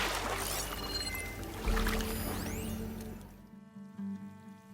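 Leftover water from a purge in the Horizon Forbidden West video game sloshes and pours at close range, then gives way to a quieter tonal hum.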